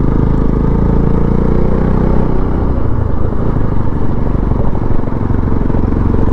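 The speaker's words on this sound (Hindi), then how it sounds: "तभी करके हम लोगों को बाइक स्लो चलानी पड़ रही है।" Motorcycle engine running steadily at low speed on a wet, snowy mountain road near Jalori Pass in Himachal Pradesh in sub-zero temperatures, a loud close rumble throughout.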